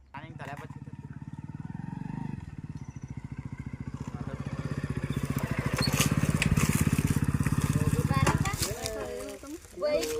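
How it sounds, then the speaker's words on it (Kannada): Motorcycle engine running after being repaired, a steady low putter idling close by for most of the clip with a brief rev near the end, while people talk over it. "ಗಾಡಿ ಸ್ಟಾರ್ಟ್ ಆಯ್ತಲ್ಲ ಕಣ."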